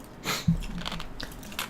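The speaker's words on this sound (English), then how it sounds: "Crunching ice, probably kinda loud." Ice is crunched between the teeth, close and fairly quiet, with a few irregular bites and crackly chews over a low background hum.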